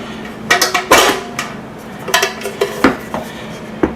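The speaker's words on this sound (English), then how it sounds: "Now, to get an idea, open this bad boy up." The lid of an Oster 2 lb breadmaker, model CKSTBR9050, being opened, with a cluster of close, loud plastic and metal clacks and knocks followed by a few lighter clicks; no speech.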